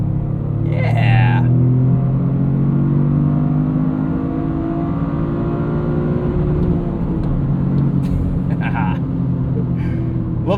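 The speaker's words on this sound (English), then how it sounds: "Love the sound of that rev limiter." A 2025 Toyota GR Corolla hot hatch with a 3-cylinder engine and 6-speed manual revs hard in third gear, a loud, close engine drone climbing and holding with stuttering limiter cuts, while a person speaks over it.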